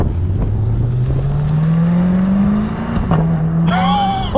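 A Chevrolet C8 Corvette with its mid-mounted engine revs close by, a steady rising drone building over several seconds before a brief dip and a sharper bark near the end, loud and with no talk.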